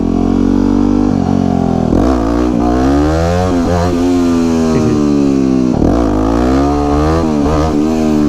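A supermoto motorcycle engine at wheelie practice, loud and close, revving up and down through rising and falling pitch sweeps with a couple of sharp gear-change dips.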